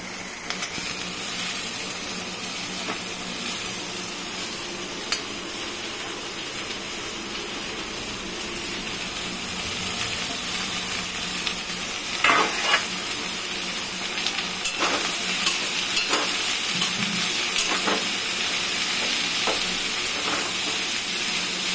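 Chopped chichinga (snake gourd) in a pan with dried chilli tempering, a continuous hissing sizzle punctuated by scrapes and clacks of stirring, close up and steady, no voices.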